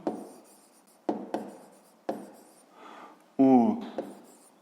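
A pen scratches across paper in a series of short strokes while working a math exercise, with a brief spoken phrase breaking in near the end.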